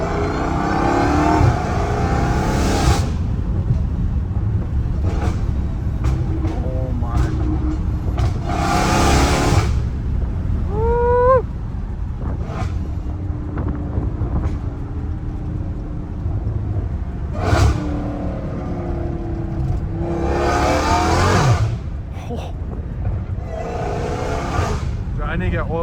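Dodge Hellcat Redeye with a supercharger, revving in loud repeated bursts over a steady engine rumble, with rising whine tones between blips and talk heard alongside.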